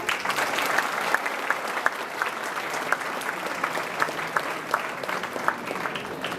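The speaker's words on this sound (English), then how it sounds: "So we just give a big round of applause to him." Audience applause at a college orientation program, a loud, dense and steady wash of many hands clapping throughout, with no talk over it.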